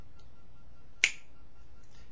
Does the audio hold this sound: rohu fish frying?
no